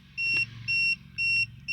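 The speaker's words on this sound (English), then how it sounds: "This is what the alarm sounds like." An Inkbird Plus CO2 monitor alarm sounds four evenly spaced electronic beeps, each about a quarter second long, loud and close, over a low background hum.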